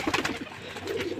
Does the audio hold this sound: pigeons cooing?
yes